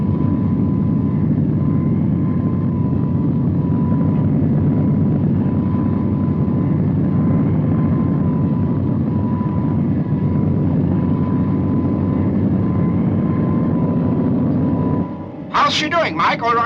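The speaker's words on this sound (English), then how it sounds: "Selecting vertical takeoff now" The Supercar aircraft's engines run at full boost for a vertical takeoff, a loud, steady droning roar with a constant hum, ending in a sudden high-pitched burst as it cuts off; a voice speaks over it.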